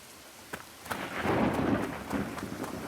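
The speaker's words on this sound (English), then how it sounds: "it's raining" Steady rain pours down while several rolls of thunder rumble through it, one swelling loud and long in the middle before easing back into the constant patter.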